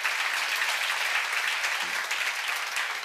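An audience at a church seminar applauds in a dense, continuous wash of clapping that holds steady for a few seconds, close and full, with no speech over it.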